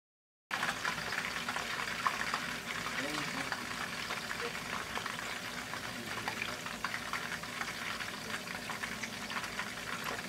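Chicken pieces for General Tso's chicken frying in hot oil, a steady close crackling sizzle that continues evenly throughout without letup.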